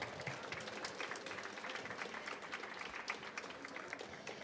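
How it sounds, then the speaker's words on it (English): A roomful of guests claps together at a high tea gathering, dense and even applause with scattered louder claps, heard from within the crowd for about four seconds. "Everyone give Ruben a round of applause."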